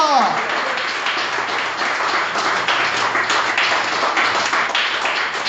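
A church congregation breaks into sustained applause, dense clapping from many hands filling the room at close range and holding steady throughout, with a voice briefly heard at the start.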